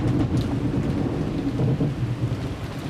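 A storm scene from the visual novel Umineko brings a low rolling rumble of thunder over a dense, steady hiss of rain. The sound stays loud and continuous for a few seconds with no voices.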